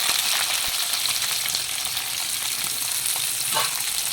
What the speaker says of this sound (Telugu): వేసుకొని ఇప్పుడు ఆనియన్ పచ్చిమిర్చి వేసుకోవాలి